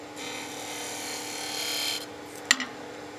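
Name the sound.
skew chisel cutting a V groove in wood on a lathe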